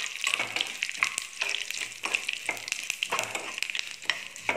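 Snake gourd and lentils fry in a pan, a close, busy sizzle broken by repeated scraping stirs in an uneven rhythm, with no talking.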